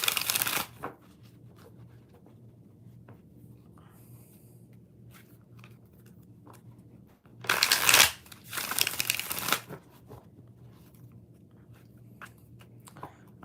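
Tarot cards being shuffled in two bursts of crisp riffling, one brief at the start and a longer, louder run near the middle, with quiet room hum between.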